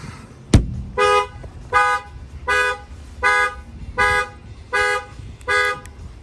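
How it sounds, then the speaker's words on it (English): A 2022 Ford F-350 pickup's factory alarm honks in a steady rhythm, about eight short horn blasts evenly spaced, loud and close, following a single sharp knock. "The alarm fires off"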